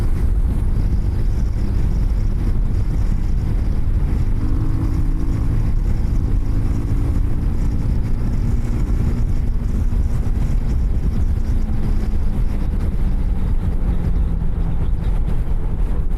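Loud, constant roar of wind buffeting a microphone on a moving Benelli TRK 251 motorcycle during a top speed attempt, with a low engine drone underneath and no speech.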